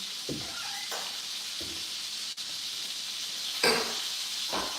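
A pan sizzles steadily with a soft hiss, broken by a few brief clatters of stirring; no voices.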